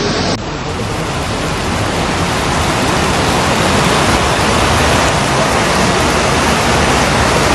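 Floodwater rushes through a flooded street, a loud, constant roaring wash that fills the whole clip without pause.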